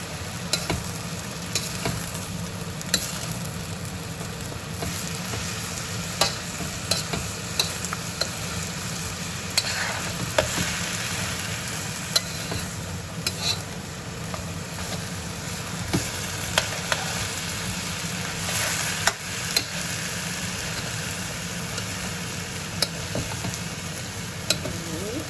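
The hard parts of the vegetables for pancit stir-fry in a hot pan, a constant crackling sizzle dotted with sharp clicks and scrapes from stirring, with no voices.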